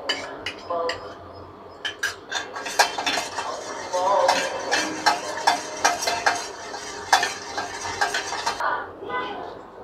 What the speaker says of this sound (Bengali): এখন আমরা আগার আগার পাউডারটা দিয়ে তারপরে আমরা একটু নাড়ব।